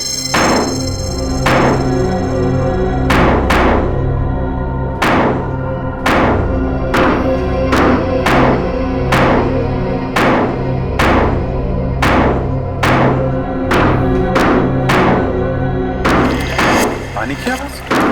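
Heavy blows break into a water tank, a steady series of loud, sharp thuds and cracks repeating about every second over a low continuous hum, with a voice briefly talking.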